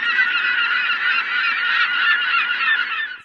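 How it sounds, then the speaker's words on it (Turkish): Flock of geese and other water birds honking continuously near a lake with flamingos, a dense, steady chorus of overlapping calls close by with no talk. "Bakın şu anda bile etrafta ben çok sayıda su kuşu görüyorum."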